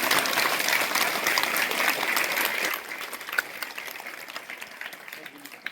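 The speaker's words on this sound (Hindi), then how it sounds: "एक बार हम इनका ताली बजाकर जोरदार" Children and audience applaud guests at a school event, a thick, loud burst of clapping that thins and softens partway through, with voices faintly underneath.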